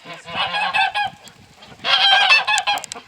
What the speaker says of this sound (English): They're chickens and ducks.